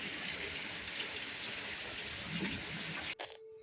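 A summer thunderstorm with steady rain, heard as a dense, continuous hiss of falling drops on surfaces that fills the scene, then cuts off abruptly near the end.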